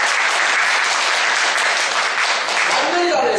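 Steady applause from a lecture audience, dense and continuous throughout, fairly loud and close, with no break.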